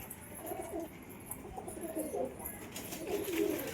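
Pigeons coo softly at a rooftop pigeon house, their low murmuring calls rising and falling in an overlapping, continuous stream with faint background hiss.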